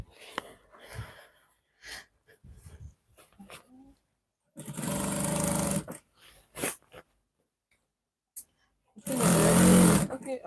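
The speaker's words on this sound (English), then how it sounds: "We are sewing with 1/2 inch" Bursts of a sewing machine stitching a Bubu gown with a half-inch seam, two short runs of loud whirring separated by quiet stretches and brief talk nearby.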